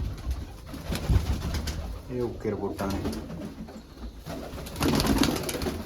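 Pigeons coo softly in low, rolling calls while a person talks nearby over a steady background hum.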